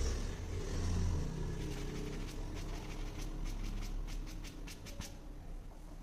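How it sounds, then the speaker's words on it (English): A polisher with a soft foam finishing pad runs on Kia Sonet paint, a low steady whirring drone with faint soft ticks, quieter and smoother than a cutting pad. "a softer foam pad or finishing pad sounds something like this."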